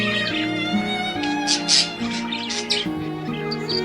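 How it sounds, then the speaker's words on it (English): A parakeet chirps and tweets in a rapid, busy stream of bright, high calls, close and steady over a dense background of other sound. "Parakeet."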